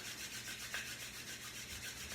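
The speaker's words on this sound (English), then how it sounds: "bring our hands together and rub them vigorously together" Hands rubbed vigorously together: a steady, soft, dry swishing friction that continues without pause and sits faint and close.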